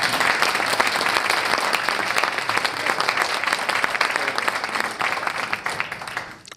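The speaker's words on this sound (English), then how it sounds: "please give a big round of applause to Tim Berners-Lee" A large audience at the Internet Hall of Fame induction applauds Tim Berners-Lee, a loud, sustained roar of many hands clapping that holds steady before tapering off at the end.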